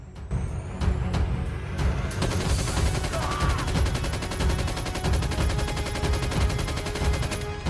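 Scoped gunfire from the Call of Duty Mobile battle royale game: dense, continuous rapid shots and bursts run steadily at close, loud level for the whole stretch, with no voices.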